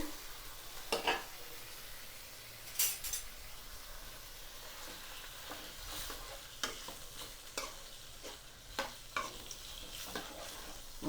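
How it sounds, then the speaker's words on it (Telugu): Bitter gourd pieces fry in hot oil with a soft, continuous sizzle, while a spoon stirs and scrapes the pan in repeated clinking strokes at an unhurried pace, with no talking. "ఇట్లా ముక్కలు ఆయిల్లో యాగడం వల్ల కూరకి సేదు పోతుంది"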